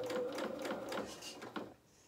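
Domestic sewing machine stitching a label onto a dress bodice band, a quick run of rhythmic needle strokes close up that slows and stops near the end.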